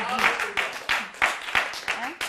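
Church congregation clapping in a quick steady rhythm, each clap sharp and evenly spaced, mixed with voices singing or calling out over it.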